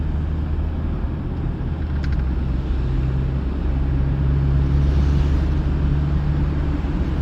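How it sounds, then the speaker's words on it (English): An old Jeep rolls along bumpy back roads, its engine and road rumble forming a steady, loud, continuous drone from inside the vehicle with no talking. "The old Jeep takes the back roads a little bit better than some cars, I think."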